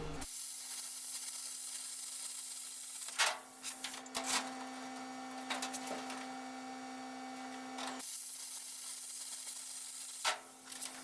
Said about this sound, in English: I used the plasma cutter again to cut another piece to the right size